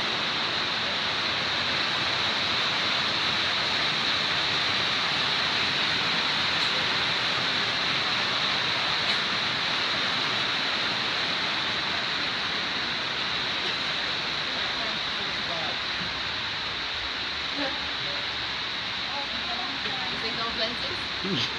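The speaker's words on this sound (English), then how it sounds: "Having a bit of a rainstorm?" Steady, heavy rain pours down at a lodge, a dense, continuous hiss filling the whole stretch, with people talking faintly underneath.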